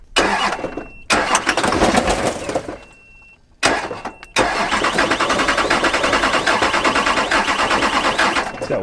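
A bullet-riddled Hummer engine with its firing order wired wrong cranks, catches briefly and dies, then cranks again and fires into a loud, lumpy, uneven idle close by.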